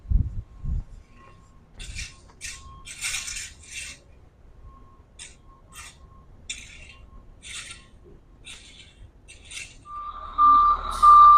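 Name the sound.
gravel delivery truck reversing with beeps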